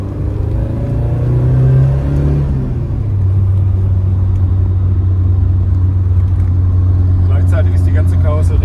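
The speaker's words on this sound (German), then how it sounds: "Wir können also hier aus unteren Drehzahlen wunderbar hochbeschleunigen." A restored Alfa Romeo 1750 GTV pulls up from low revs, its engine drone rising in pitch for a couple of seconds before settling into a steady, loud rumble.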